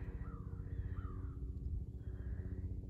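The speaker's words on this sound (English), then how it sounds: "That crow, that's a family of crows." Several crows caw in a run of harsh calls, a few repeated caws at moderate distance over a low background hum.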